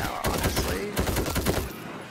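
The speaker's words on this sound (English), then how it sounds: "Machine gun heavy." Heavy machine gun in the World War Z video game firing in rapid bursts of loud, dense shots, with a brief pause partway through before the firing resumes.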